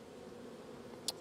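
Honey bees buzzing on a hive frame, a soft continuous hum close by, with one brief sharp tick near the end.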